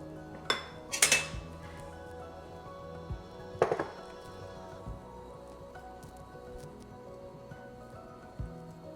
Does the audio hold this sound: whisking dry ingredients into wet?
yes